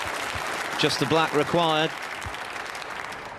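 A snooker crowd applauds Ronnie O'Sullivan's break against Jackson Page at the 2023 English Open, a steady wash of clapping throughout with a commentator talking over it.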